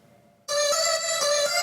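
Sample time-stretched using Ableton's Complex warp mode, a sustained bright harmonic tone with many stacked partials that starts abruptly after a short quiet lead-in and holds steady with slight pulsing to the end.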